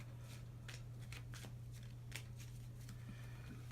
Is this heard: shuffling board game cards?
yes